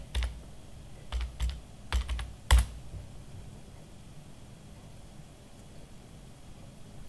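Keystrokes on a computer keyboard come as a few quick bursts of clicks early on, then a short flurry; the sound is fairly close but faint over a quiet room hiss, and the rest is near silence.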